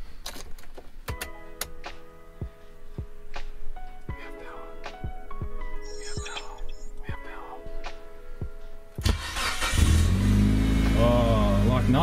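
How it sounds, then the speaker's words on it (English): A Mitsubishi Evo 9 is cranked after a battery relocation. A series of clicks and faint ticking comes first, then the engine catches near nine seconds and runs loudly to the end. "So now there's nothing left for it but to start the car."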